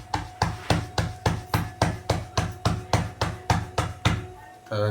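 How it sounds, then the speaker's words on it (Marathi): Bhakri flatbread dough slapped and patted by hand while cooking over a wood-fired chulha: a steady train of about fourteen evenly spaced, dull, close-up slaps, each decaying quickly, with no talk. "आता बघा भाकरी करायचं काम चालू आहे"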